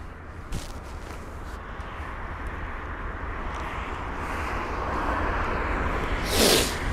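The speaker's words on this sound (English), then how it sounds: "BA 459, the British Airways A321neo with the reg Golf November Echo Oscar Tango GNEOT from Madrid" A British Airways Airbus A321neo arriving at London Heathrow from Madrid gives a broad, steady engine roar that slowly builds and swells, heard from a distance with no talking.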